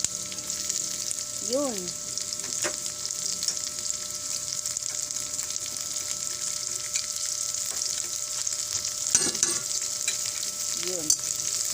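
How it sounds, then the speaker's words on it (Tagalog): Shrimp paste (alamang) sautés in a pan with a constant close sizzle, interrupted by occasional clinks and stirring, while a voice speaks briefly. "Igisa na natin para mabango siya."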